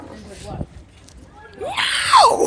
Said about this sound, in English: What kind of human being screams like that?